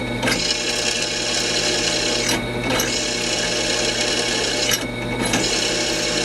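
A drill bores steadily into quality aluminum stock for handlebar riser spacers, a continuous loud grinding whir with brief surges in pitch, close up, with no talking.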